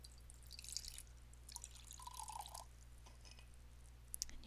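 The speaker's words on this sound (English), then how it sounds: "So I'll pour some from the French press" Tea pours from a French press into a cup as a quiet, thin trickle with soft drips and splashes. Brief taps and clinks occur at the start and end, set against a faint low hum.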